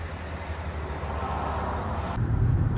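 A Kia Sorento 2.2 diesel AWD automatic on a test drive gives a quiet, steady low rumble of engine and road noise, growing heavier and louder near the end.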